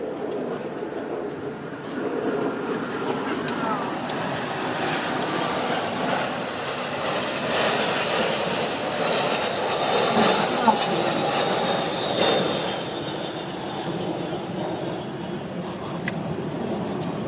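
An air force aircraft flies a horizontal figure of eight over the ground during a summer military parade, a broad, steady engine roar that swells slightly midway and holds throughout.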